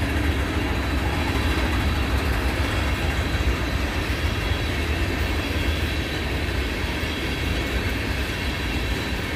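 A train rumbles past an observation deck at Cresson, Pennsylvania, in the evening, a dense steady roar with faint rhythmic clatter, loud and close throughout.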